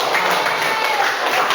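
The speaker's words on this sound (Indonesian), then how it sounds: "Nah, kasih tepuk tangan." Classroom audience applauding during a lesson on computational thinking, a steady wash of many hands clapping together at constant loudness throughout.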